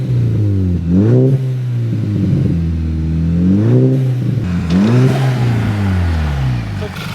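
A salvage-auction car's engine revs up and down through several throttle blips, the intake roaring loud and close with rising and falling harmonic sweeps, held below about 4,000 rpm.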